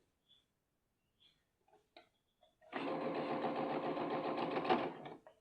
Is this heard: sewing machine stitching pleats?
yes